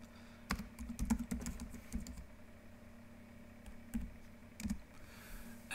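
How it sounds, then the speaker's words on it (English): Scattered keystrokes on a computer keyboard while entering a web search, a quick cluster of clicks followed by a pause and a few more taps, close and fairly faint. "I'm going to type in vintage electric guitar"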